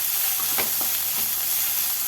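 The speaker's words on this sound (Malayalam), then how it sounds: "carrot, green peas, sweet corn ഇവ മൂന്നിട്ട് നന്നായിട്ട് വഴറ്റി കൊടുക്കാം" Carrot, green peas and sweet corn sautéing in a pan, a steady bright sizzle with a few soft scrapes of stirring.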